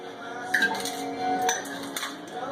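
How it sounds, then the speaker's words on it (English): Ice cubes are tossed into a hookah base, giving a few sharp clinks and clatters at irregular moments over a soft, steady background. "I'm just going to throw these ice cubes in there."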